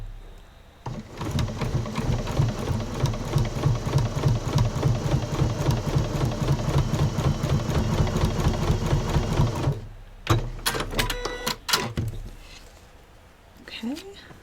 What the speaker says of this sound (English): as I take this to the sewing machine, I'm going to stitch right alongside that folded paper